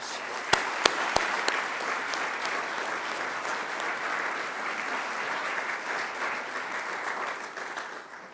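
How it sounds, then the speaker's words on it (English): A graduation ceremony audience at Macquarie University applauds academic staff: a few sharp, close claps ring out first, then dense, steady applause fills the hall before tapering off at the end. "I'd ask you to give them a round of applause too, please"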